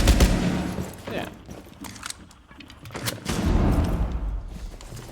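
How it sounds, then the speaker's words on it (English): Explosions and gunfire in a Rainbow Six Siege esports match, loud bursts at the start and again near the end, heard under caster commentary. "I don't know what that explosion was, but an explosion has been used."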